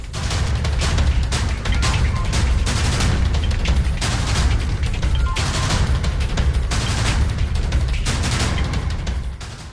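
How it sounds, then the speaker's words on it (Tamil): Firecrackers burst outside in a loud, dense volley of rapid cracks and bangs, continuing without pause for nearly ten seconds with no voices. "வெளியே வெடி போட்டு இருப்பாங்க ஐயா, சத்தம் கேட்கும்."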